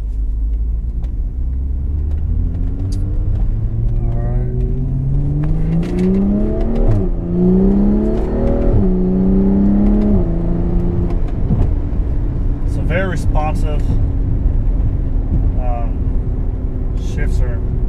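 A stage 2 tuned 2011 BMW 135i DCT accelerating with paddle shifts, a loud close engine drone that climbs in pitch, drops sharply at each quick gearchange and climbs again, with a voice speaking over it.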